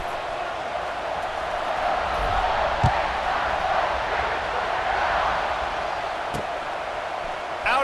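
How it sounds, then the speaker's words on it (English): A stadium crowd buzzes in a college football video game, Kennesaw State vs Ohio State, a steady, dense roar of many voices with a couple of sharp thuds, while a commentator talks over it. "this crowd is buzzing after that last score"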